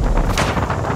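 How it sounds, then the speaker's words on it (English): Steady gusty wind buffets the microphone with a loud low rumble and broadband roar throughout. "It's really windy."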